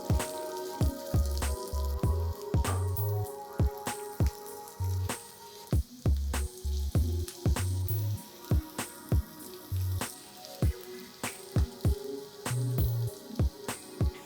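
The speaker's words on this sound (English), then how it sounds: "turn the mixture into small cutlets and drop them in some hot oil" Cabbage veggie cutlets fry in hot oil with a steady sizzle and popping crackle, while repeated sharp taps and low thuds from the pan sound at a regular rhythm throughout.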